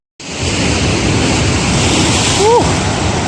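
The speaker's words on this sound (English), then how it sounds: "There are some big waves out there." Big ocean waves surge along a Hawaii coast in a loud, steady roar of broadband surf. Wind buffets the microphone, and a brief whistle-like rising tone is heard partway through.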